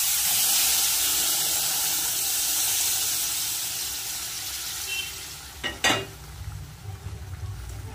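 Hot water poured into a hot pan of spice-fried peas and potatoes for a vegetarian ghugni gives a loud, steamy hiss that slowly fades. A sharp clatter of cookware comes near the end, followed by low bubbling.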